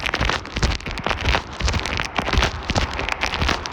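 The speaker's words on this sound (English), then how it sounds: "started raining" Heavy rain falls steadily during a storm outdoors, a dense crackling patter of drops hitting surfaces close by, continuous and loud with no voices.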